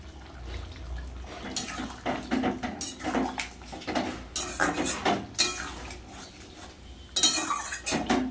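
A pot of cauliflower-potato curry topped with ghee and chopped coriander is lifted off the stove, with repeated close metallic clanks, knocks and scraping of cookware and no voices.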